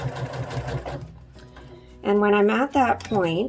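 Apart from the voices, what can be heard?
sewing machine stitching fabric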